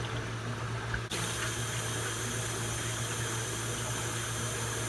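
Warm water runs steadily from a tap to rinse caked mud off an animal, a continuous close rushing flow with a brief shift in tone just after the start.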